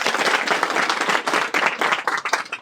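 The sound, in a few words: audience applause welcoming new trust members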